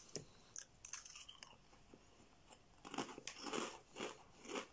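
Crisp, close crunching and chewing of spare rib flavour Crunchchips crisps, with irregular bites that grow louder and denser toward the end, with no talking.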